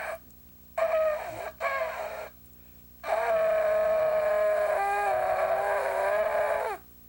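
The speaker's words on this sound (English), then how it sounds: "And the first note is tekiah, it's called, which just means a shout. Just one straight note." A ram's-horn shofar sounded for Rosh Hashanah: two short blasts, then one long, steady, slightly raspy tekiah note held for about four seconds, loud and near with no talking.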